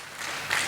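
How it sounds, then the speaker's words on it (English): A university hall audience at a research induction program claps in a brief, dense burst of applause, steady and slightly louder toward the end. "Give them a big applaud."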